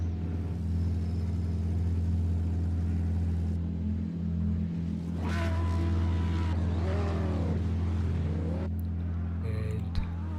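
A McLaren Solus race car in a Goodwood hillclimb racing game drones steadily with a deep continuous engine rumble, briefly joined by a louder rising rev partway through.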